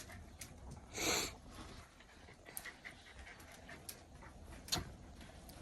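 A dog pants close by in quick, soft, rhythmic breaths, with one louder burst of breathing and occasional small ticks in the background.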